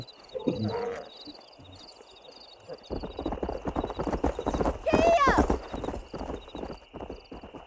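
A stallion in the Red Dead Redemption video game trots with steady clip-clop hoofbeats, then lets out a loud, rising whinny near the middle, while a voice talks over much of the scene.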